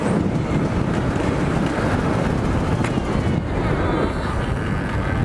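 Loud, steady roar of headwind buffeting the microphone while riding a KLX 250 motorcycle, mixed with a low engine drone, continuous throughout with no talking.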